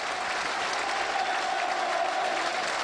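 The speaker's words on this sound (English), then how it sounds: "Massive round of applause." Sustained applause from a large football crowd at Turf Moor, Burnley v Sunderland, a steady dense roar of clapping filling the stadium without pause.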